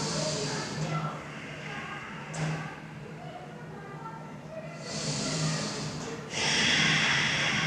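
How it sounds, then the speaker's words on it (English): Slow, deep breaths drawn in and pushed out through the nose during yoga practice, with several long audible inhales and exhales close to the microphone in a quiet room. "Breathe into it."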